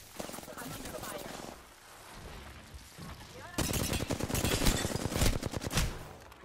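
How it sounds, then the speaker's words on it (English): Video game gunfire crackles in dense bursts, sparse at first and then erupting into a loud, sustained volley of rapid shots that continues to the end. "I'm under fire."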